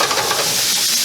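Vegetables frying in bacon fat in a skillet give a steady, close sizzle with soft stirring and tossing scrapes running through the whole moment.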